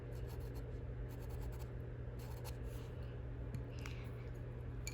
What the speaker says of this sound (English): you grab that blending stump and you just kind of move the chalk around